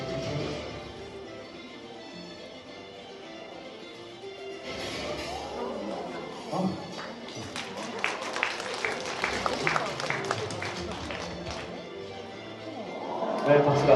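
An audience applauds at a magic show held at a Songpa district office event, beginning softly and building into a dense, lively spell of clapping with some crowd noise, a voice speaking over it.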